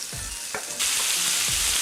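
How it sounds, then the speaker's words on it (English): Beef hits hot oil in a cast iron pan and bursts into a loud, close, steady sizzle after a few clanks of stirring. "I just love that sizzle."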